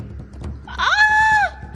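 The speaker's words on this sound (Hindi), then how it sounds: "तभी उन्हें एक औरत के चीखने की आवाज सुनाई देती है" A woman's scream rings out as a sound effect in a horror audio story, a single shrill, sustained cry lasting under a second that rises sharply and then cuts off over low background sound.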